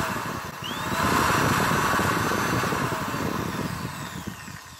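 A corded power tool runs steadily at full speed, a loud continuous high whine that holds for the whole stretch, close by with no talk.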